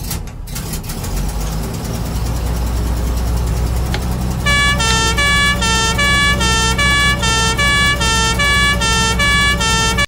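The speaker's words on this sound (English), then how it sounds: "If I use the blue lights and the two-tone air horn" A heavy UK fire engine rumbles, then its loud two-tone air horn siren starts blaring, alternating rapidly between two notes, close and insistent.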